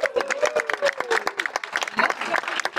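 A crowd at a gathering applauds the elected officials of Bernay with scattered, somewhat thin handclaps, a voice carrying over the first half before the clapping continues more evenly.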